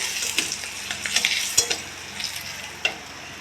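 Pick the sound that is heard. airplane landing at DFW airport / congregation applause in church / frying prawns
frying prawns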